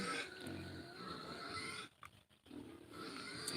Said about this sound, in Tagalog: Ang ingay ng baboy. Gusto nang hihingi na ng pagkain.